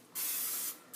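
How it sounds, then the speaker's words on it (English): Non-stick cooking spray hisses onto a pan in a close, steady burst, followed by a brief second spray. "non-stick spray."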